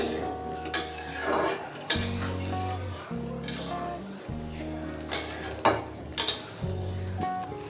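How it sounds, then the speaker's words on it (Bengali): A spoon clinks and scrapes against a bowl as salt is mixed into raw mango pieces, irregular close knocks and scrapes repeating every second or so. "এবার নুন আমের সাথে ভালো করে মিশিয়ে নিতে হবে"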